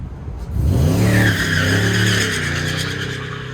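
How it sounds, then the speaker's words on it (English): A 1974 Chevrolet Blazer truck launches hard at an autocross shootout, its V8 engine rising to a loud, sustained roar with tire squeal, close to the microphone. "David Carroll in the 74 Blazer versus Dustin Reed in the 72 C10 truck"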